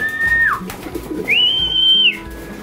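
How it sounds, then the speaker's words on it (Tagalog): Pet birds calling at home, two clear drawn-out whistled calls separated by a pause, fairly close over faint background noise, no talking. "Yan, mga ibon natin."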